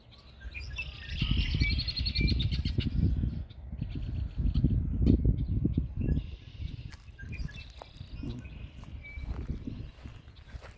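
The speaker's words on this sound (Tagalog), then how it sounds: "ang sasaya ng mga ibon" Songbirds chirp and tweet around a spring pond, bright calls repeating over a steady low rumble of wind or distant traffic, with footsteps faintly underneath.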